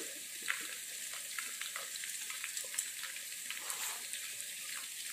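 Bay leaf, cinnamon, cloves, cardamom and onion frying in hot oil for biryani, a steady soft sizzle with small crackles and pops scattered throughout, fairly quiet and close, no voices.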